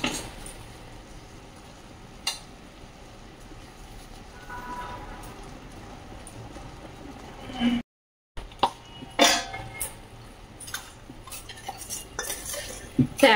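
A spoon adds spice to raw mango pickle and mixes it in, producing scattered close clinks and scrapes against a bowl amid quiet room noise, with a brief break in the sound partway through.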